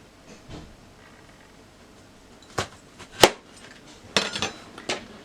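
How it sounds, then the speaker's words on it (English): A knife chops garden eggs on a board with a few sharp, separate knocks and taps spread across a quiet background, one louder clack in the middle. "I'm going to cut it because I want it to cook quick."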